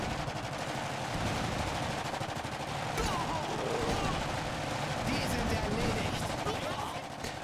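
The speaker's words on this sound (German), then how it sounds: "Also die MG-Schüsse unterdrücken auf jeden Fall die Gegner" Sustained rapid machine gun fire in the video game Iron Harvest rattles continuously with game-like sound effects, dense and loud throughout, with faint speech mixed in.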